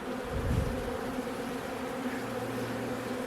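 Honey bees buzz steadily nearby at an open hive during requeening, a continuous droning hum with no voices, rising slightly in the first second before settling.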